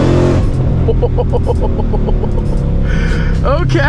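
Loud, steady engine roar of a Shelby GT500 heard from inside the car as it accelerates, with a voice speaking briefly over it.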